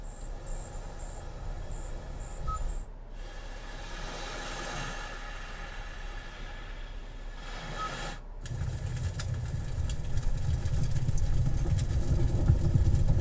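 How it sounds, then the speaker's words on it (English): Nature ambience with a steady cricket-like insect chirping plays through the media system of a Hyundai Palisade, continuous at moderate level, briefly cutting out twice and then returning louder with a fuller low-end rumble. "Sounds of nature is kind of neat."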